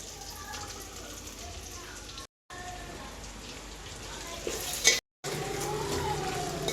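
Chicken leg pieces sizzling in a pan of tomato masala for gongura chicken, a steady soft crackle and hiss with two brief cuts of silence and a sharp clink near the end.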